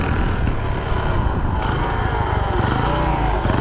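A Shineray 49cc motorcycle engine with a suspected clutch fault runs steadily up close, a dense loud droning rattle that stays even throughout with no voice over it.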